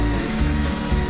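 A large tree trunk being felled with a saw, cut from the side opposite the notch, giving a loud, steady mechanical drone throughout with no talk.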